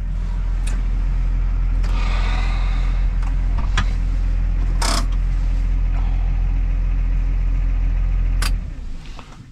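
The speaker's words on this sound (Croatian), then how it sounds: "Znači, ostavljamo ovdje traktor s plugom." A tractor fitted with a plough idles steadily up close, its low engine drone continuous, with a few sharp knocks and clicks over it before the sound drops away near the end.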